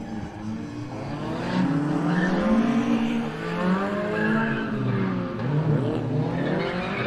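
A gymkhana car runs a motor club test course, its engine revving and whining through gear changes with tyres squealing in the turns, fairly close and loud throughout.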